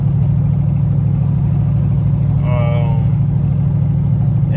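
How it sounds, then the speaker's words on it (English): Turbocharged Chevrolet Tahoe engine with a misfire, a loud steady low idle with an uneven pulsing chug, heard close up, with someone talking briefly over it. "So I'm getting a misfire."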